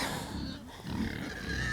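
Pigs on a ranch grunt and snuffle close by in a low, uneven jumble of oinks, with a faint voice briefly underneath.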